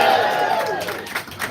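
At a campaign speech in Concord, New Hampshire, a crowd cheers and shouts together loudly from the start, the roar fading slightly over a second and a half, with a speaking voice mixed in.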